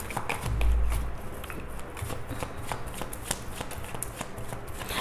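Tarot cards being shuffled and drawn by hand, a steady papery riffling and rustling with soft taps and a low thump near the start, close and moderately quiet with no talking.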